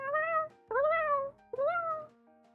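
A pet cat meows three times in a row, each call long and clear with a rising then falling pitch, close up, with short pauses between them and no voices.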